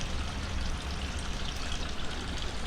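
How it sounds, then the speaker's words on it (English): Warm spring water runs steadily from a tap into a jug, a constant rushing splash with no breaks, close and fairly loud throughout. "you can bring your jugs and you can fill it up"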